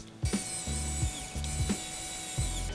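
Copper wires of 2.5 mm² clamped into a connector terminal of a DC-DC converter module, with about four repeated ratcheting clicks in a steady rhythm, close and quiet, and no talk.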